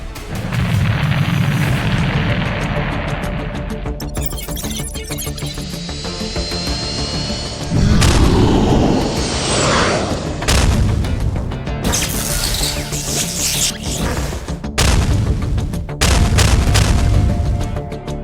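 Rocket barrage from an arsenal warship in an anime naval battle, pounding the hilltops on both banks of a strait: dense, loud booming explosions in repeated waves with rumbling impacts and crackling debris, no talk.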